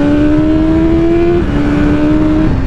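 A Kawasaki motorcycle passes close and loud, its engine holding a steady high whine that drops in pitch partway through as it goes by.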